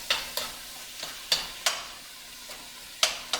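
About a large tomato's worth of chopped tomato sizzles in a frying pan over medium-high heat, while a spoon scrapes through it in sharp, irregular strokes roughly every half second; close and clear, with no voices.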